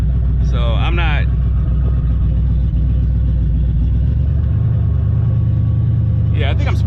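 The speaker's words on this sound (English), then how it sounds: "Yeah, I think I'm spinning the tires." A Ford SN95 Mustang on 20-inch tires spins its tires at launch during 60-foot testing, with a steady loud engine rumble throughout and short high squealing bursts near the start and end.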